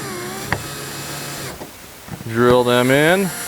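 A power drill drives screws into a Mighty Mount with Fullback on a Frontier 12 boat. Short, close motor whines rise and fall in pitch, with the loudest burst in the last second.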